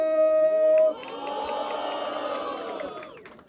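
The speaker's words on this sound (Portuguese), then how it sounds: "quem acha que o 2N levou esse round faz muito barulho?" A rap battle audience at Batalha da Leste in Londrina cheers loudly for 2N after a round, a sustained roar of shouting and whooping that follows a brief tone and fades near the end.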